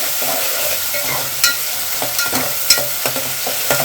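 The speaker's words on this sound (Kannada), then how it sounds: "ಹೀಗೆ ಹೈ ಫ್ಲೇಮಲ್ಲೇ ಇಟ್ಬಿಟ್ಟು ಈ ಥರ ಚೆನ್ನಾಗಿ ಮಿಕ್ಸ್ ಮಾಡ್ತಾ ಇರಬೇಕು" Onions fry on a high flame in a pan while being stirred, a constant sizzle broken by irregular scraping knocks of the spoon, close and fairly loud with no talk.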